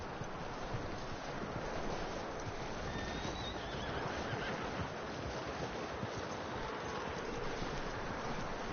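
A horse neighs in the video game Red Dead Redemption amid a dense, steady wash of outdoor ambience, with a faint clip-clop feel underneath; no voices.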